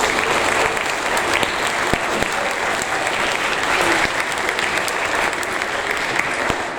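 Sustained applause from a school awards audience, dense clapping that stays loud and even throughout with no voices rising above it.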